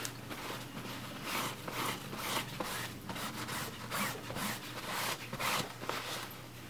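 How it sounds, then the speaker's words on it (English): A brush scrubs back and forth over the material of a designer handbag in quick, rhythmic strokes, close and steady with a dry rasping texture. "I'm just going to start scrubbing the bag"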